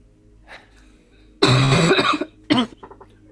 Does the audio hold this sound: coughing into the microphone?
yes